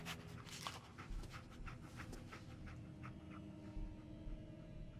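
The companion dog Dogmeat pants in Fallout 4, giving a run of quick, soft breathy huffs in a steady rhythm over a low, constant background hum, close but quiet.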